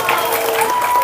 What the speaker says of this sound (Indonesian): Tepuk tangan buat adik-adik kelas 6.